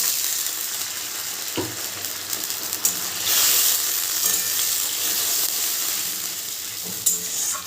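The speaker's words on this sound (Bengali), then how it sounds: "এবার পেঁয়াজের ভেতর দিয়ে দেবো আমি একটু মাটন স্টকটা" Mutton stock poured into onions frying in oil, then stirred in, with a steady loud sizzle and hiss, scraping stirs and a few sharper clinks of the spoon against the pan.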